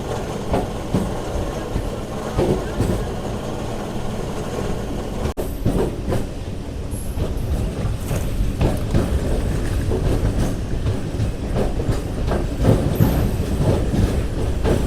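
A MEMU passenger train running from Chittoor toward Tirupati, heard from on board as a loud, continuous rumble with rhythmic wheel clatter and a few brief high squeals and knocks, with no talking.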